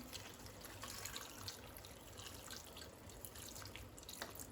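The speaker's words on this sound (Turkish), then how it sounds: "Sıcak su üzerine ilave ediyorum." Hot water poured into a pot of cauliflower stew, a faint continuous splashing trickle at a quiet distance, with no voices.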